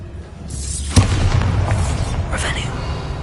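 A Bombarda spell cast in the video game Hogwarts Legacy lands as a single loud booming blast near the start, followed by a rumbling, crackling tail. Another sharper magical burst follows about two seconds later, with game ambience continuing throughout.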